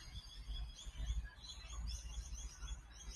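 Birds chatter outdoors in the succulent garden of the Royal Botanic Garden near a large eucalyptus tree: continuous overlapping chirps and tweets at moderate distance over a low rumble of ambient noise.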